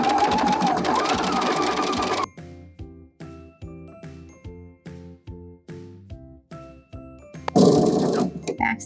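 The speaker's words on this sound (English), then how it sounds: "we're going to sew it up on the sides here" Sewing machine stitching the side seams of a drawstring bag with a 3/8 inch seam allowance, steady motor hum giving way to a regular run of quick needle thumps, then louder machine noise at the end, close and with no talk.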